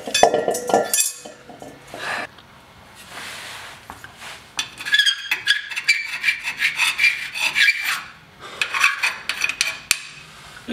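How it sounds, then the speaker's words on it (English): Old silicone being scraped and rubbed off the differential of a 1971 Chevy C20 truck, with close, uneven bursts of gritty scraping and rasping separated by short pauses. "I'll take this opportunity to kind of clean up all this silicone here"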